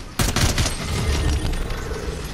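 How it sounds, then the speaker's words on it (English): Gunfire in Fortnite, a rapid cluster of loud shots opening into a dense rattling volley that fades into a lingering wash, with no talk. "Somebody's trying to shoot at me."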